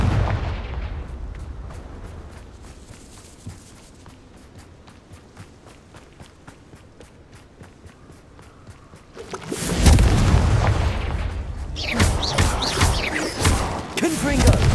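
Confringo blasting spell explosions in Hogwarts Legacy, a heavy burst of crackling blast noise starting midway and a second loud eruption near the end, after a quieter stretch of rhythmic footsteps and low rumble.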